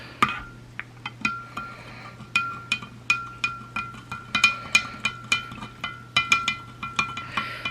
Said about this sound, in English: And then stir it till it's dissolved.